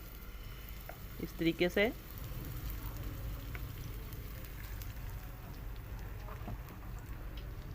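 Egg batter poured into a pan with a spoonful of ghee gives a brief sizzling burst, followed by a steady low frying hiss that continues under quiet talk in Hindi.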